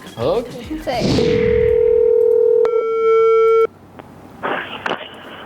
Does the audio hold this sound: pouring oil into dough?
no